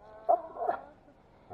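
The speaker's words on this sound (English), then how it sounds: "he's totally a woods dog." A woods dog in the woods giving a couple of short, faint whimpering yelps close by, with quiet background around them.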